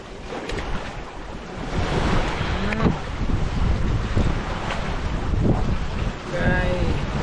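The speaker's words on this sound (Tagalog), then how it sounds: "lakas ng hangin" Strong wind buffeting the microphone in a continuous roar outdoors during a fish trap harvest, with rushing, surf-like noise and faint voices underneath.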